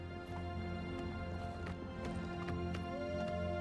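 A horse ridden across rough ground near a cliff in the video game Oblivion Remastered, with steady clip-clopping hoofbeats over a constant droning game backdrop.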